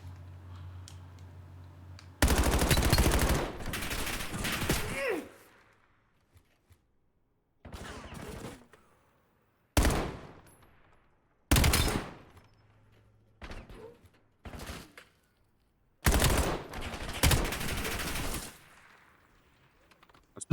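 Bursts of automatic gunfire in the Black Ops 7 video game, several separate loud volleys of rapid shots spaced by short quiet gaps, some long and sustained, others brief and sharp.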